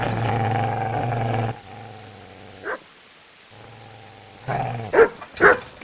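A dog barks at the player in the medieval role-playing game Kingdom Come: Deliverance, with a few short, loud yaps at the end. They follow stretches of steady, droning game ambience.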